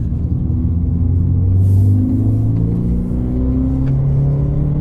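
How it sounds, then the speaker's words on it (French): A Renault Clio 3 RS naturally aspirated engine revving from inside the car, a loud, low droning rumble that rises and falls in pitch across several seconds. "Le son de l'Atmo, c'est vraiment cool."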